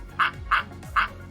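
Three short, evenly spaced duck-like quacks ring out from a children's animal-sounds game on a phone, each a clear, nasal burst heard alone.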